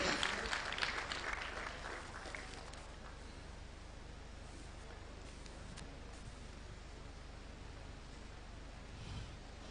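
Audience applause at a university of medical sciences ceremony, a dense burst of clapping in the first few seconds that fades into a low, steady wash of crowd noise and hiss for the rest.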